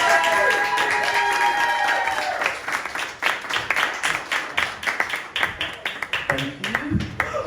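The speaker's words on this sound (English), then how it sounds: "Can we have a big cheer for Steve Reeve," A stand-up comedy crowd cheers and claps for the next act, a loud burst of clapping with whoops that settles into scattered, uneven claps and a few voices.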